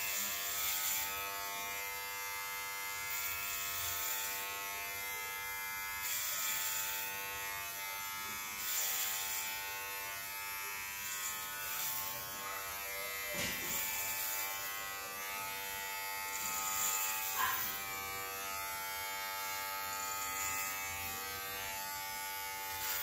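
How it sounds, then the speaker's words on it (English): A dog's electric shaver buzzes steadily as it cuts a person's hair, a constant droning hum with slight shifts as the blades move across the head, close and continuous with no talking. "This is a dog's shaver. I'm gonna try it in my head and for my hair."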